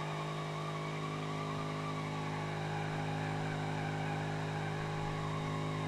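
A muscle car on a drift track in a video game, its engine humming steadily with a droning tone and a faint hiss of tires, moderately quiet and without voices.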